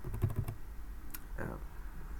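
Keys are pressed on a UK computer keyboard in a quick cluster of close clicks, followed by a single later tap, with a faint background hum.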